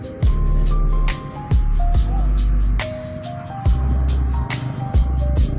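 A car driving along a road in cool morning weather, a loud close engine drone that drops and swells repeatedly with gear changes, overlaid by regular clicking ticks; no talking.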